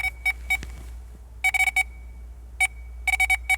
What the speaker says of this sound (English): See how it's beeping very slow?